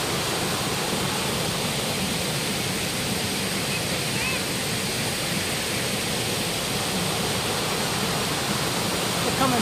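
Several waterfalls pour along the Lugnason river on Siquijor, a steady, loud broadband roar of falling water that holds unbroken and close throughout, with no voices rising above it.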